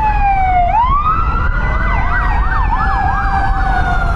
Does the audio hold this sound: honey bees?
no